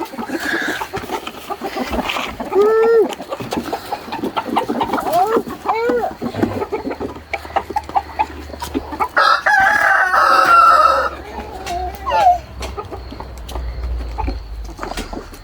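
Chickens cluck and squawk around at close range, with a couple of rooster crows rising out of the flock and low rustling throughout.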